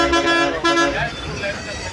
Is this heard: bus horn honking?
yes